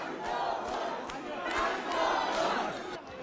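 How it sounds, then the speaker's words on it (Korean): Supporters cheer and shout as a political leader arrives at a traditional market in South Korea during an election campaign, a loud, swelling crowd roar with overlapping voices rising and falling in waves. "지지자들이 환호성을 지릅니다."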